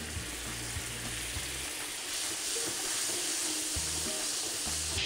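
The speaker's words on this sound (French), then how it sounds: "Je vais attendre que le sucre commence à fondre et je vais pouvoir ajouter mon beurre" Butter sizzles against melting sugar in a frying pan as caramel is started for a tarte tatin, giving a steady, loud, hissing crackle throughout with a low background hum and no talk.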